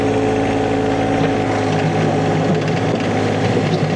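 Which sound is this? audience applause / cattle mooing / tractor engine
tractor engine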